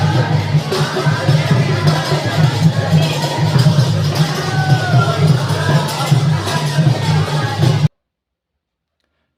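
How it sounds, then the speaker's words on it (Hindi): A crowd packs a temple courtyard in Orchha, a steady murmur of many voices with occasional raised shouts, close and continuous before cutting abruptly to silence near the end. "यहाँ मंदिर में लगी हुई थी भीड़।"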